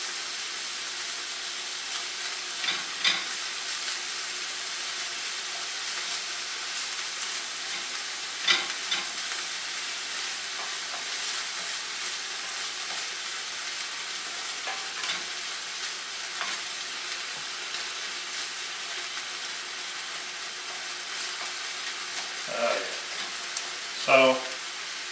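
Ground beef for nachos fries in a pan, a steady faint sizzle with occasional scraping jabs as the meat is broken up, and a few louder clanks near the end.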